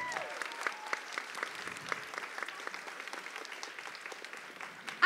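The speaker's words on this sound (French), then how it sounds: "applaudissez chaleureusement Serge Barry." A theatre audience claps warmly for a crew member at a student performing-arts competition's local final at Cégep de Trois-Rivières in 2022: dense, steady applause of many hands, fairly close, with a few whoops over it.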